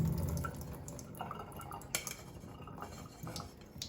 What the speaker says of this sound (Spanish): Ahora esta agua se la voy a botar.